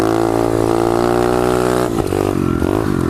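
A pit bike engine revs hard and steady during a fast wheelie while riding across a golf course, a loud close buzzing drone that dips briefly and picks back up, with no talk over it.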